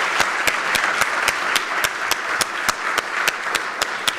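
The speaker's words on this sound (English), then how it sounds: "let's have a round of applause for Declan Hill" After a speaker-series talk on Canadian sport, an audience applauds Declan Hill with sustained, even clapping, while one sharp clap repeats in a steady beat about twice a second on top of it.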